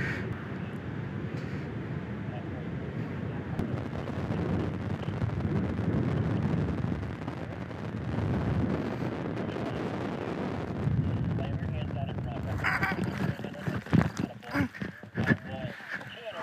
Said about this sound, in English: Wow, it is windy.